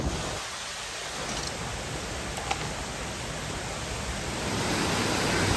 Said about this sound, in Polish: Widać wodospad.